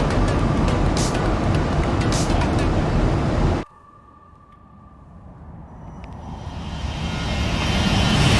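A simulated Boeing 737-800 in X-Plane 12 roars past loudly with jet engine noise, then cuts abruptly to a quieter low hum that slowly builds again toward the end.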